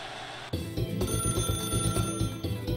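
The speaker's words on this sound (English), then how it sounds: "The phone is ringing." Telephone ringing in the Freedom Planet video game, a sharp onset followed by a rapid, repeating electronic trill that stays steady and clear, with no talk.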